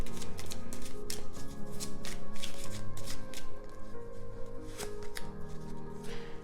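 Tarot cards being shuffled by hand, a close, rapid riffling and flicking that runs continuously with brief pauses and no talking.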